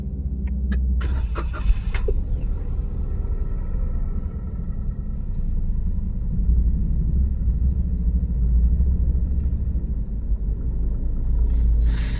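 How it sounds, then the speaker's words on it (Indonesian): A Daihatsu Sigra car sits with a check-engine light fault as a starter cranks briefly, then a steady low engine idle rumbles on close and loud for the rest of the stretch. "Sudah on, lalu kita start ya rekan-rekan."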